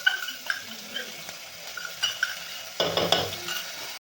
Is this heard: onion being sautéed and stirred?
yes